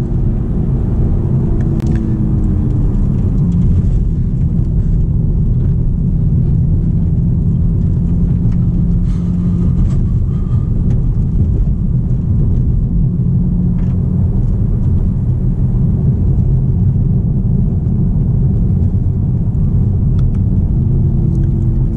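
A Toyota Supra 2.0 drives with a steady, loud low engine and road rumble as it downshifts and brakes, with no clear rev spike standing out from the constant drone.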